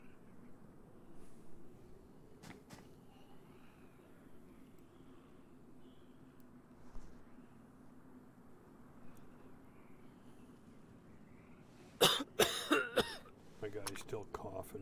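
A person coughs and clears their throat in a sharp cluster of loud bursts near the end, after a long stretch of low background hum with scattered faint sounds.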